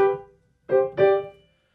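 Three piano chords played without the sustain pedal, each cut off short with no ringing sustain, the last two struck close together after a brief pause.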